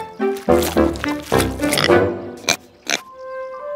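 A cartoon pig oinks in several short, squealing grunts of varying pitch, close and fairly loud, followed by two brief sharp bursts and a fading tonal tail.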